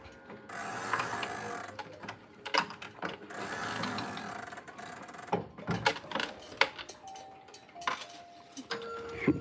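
Mechanical clocks being wound, with close, crisp ratchet-and-pawl clicking in irregular runs, bursts separated by brief pauses and occasional metallic clanks.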